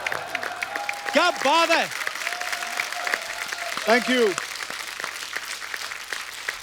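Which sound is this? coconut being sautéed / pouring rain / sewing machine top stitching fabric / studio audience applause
studio audience applause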